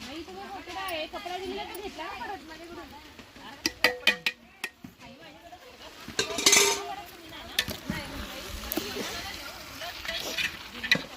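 A slotted spoon stirs and flips pulao in a pot over a wood-fired chulha. Scattered metallic scrapes and taps sound against a soft sizzle while women chat close by throughout.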